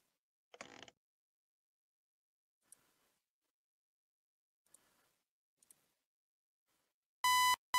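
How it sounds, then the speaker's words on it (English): An alarm clock going off: a short rasp and a few faint ticks lead up to a loud, steady electronic beeping burst near the end, with no talk. "how did I trigger the alarm clock to go off?"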